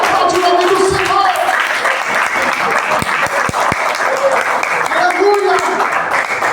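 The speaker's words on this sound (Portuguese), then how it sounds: "Aplaude o nome do Senhor." A church congregation claps loudly and steadily during a worship service, a dense crowd applause filling the room alongside voices, with a few sharper individual claps standing out midway.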